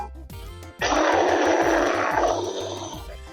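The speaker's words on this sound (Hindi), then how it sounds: "ये आवाज तो भालू की है," A bear lets out a loud, rough, sustained growl for about two seconds that gradually eases off, over a faint rhythmic backing beat.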